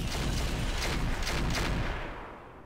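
Heavy weapons fire in the Roguetech BattleTech mod: a loud, dense rumbling barrage with a few sharper booms, sustained for about two seconds before tailing off.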